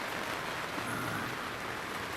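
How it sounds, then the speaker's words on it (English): Heavy rain pours steadily on a sailing boat, a dense continuous hiss of drops with no voices, even and unbroken throughout. "whilst it's chucking it down with rain"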